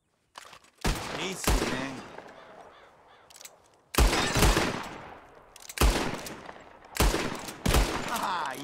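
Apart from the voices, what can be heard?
gunshots shooting bottles in video game Red Dead Redemption 2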